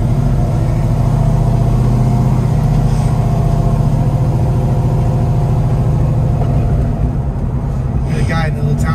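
A 1972 Ford Mustang Mach 1 with a 429 Cobra Jet Ram Air V8 idles with a deep, loping rumble, loud and close, steady throughout with slight rhythmic unevenness.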